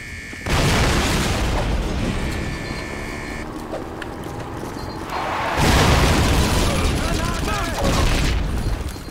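Dense WWII battle noise from Call of Duty: United Offensive on PC: rolling booms and bursts of gunfire in two loud waves, with a dip between them.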